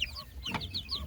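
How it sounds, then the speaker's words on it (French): A rooster clucks softly, a few short, quiet throaty clucks close by in a calm farmyard, with no voices. "Je crois que c'est un coq."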